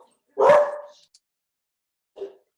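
A dog gives one loud, close bark, then after a pause a second, shorter and softer yip in a quiet room.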